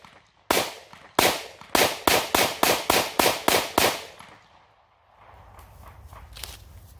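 A Taurus GX4 9mm pistol fires 115 grain standard pressure rounds at a range, with ten sharp, loud reports in a quick, even string, then a quiet stretch of faint outdoor ambience.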